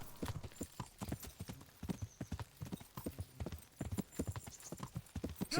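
Horse hooves gallop in a video game in a fast, even clip-clop rhythm that stays close and clear for the whole stretch, with no talk over it.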